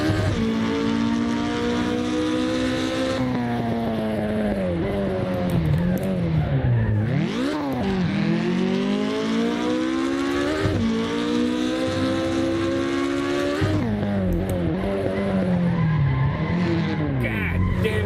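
An American muscle car in Assetto Corsa revs long and hard through its gears, engine pitch climbing slowly, dropping at each shift, with tire squeal and a driver's voice over the steady roar.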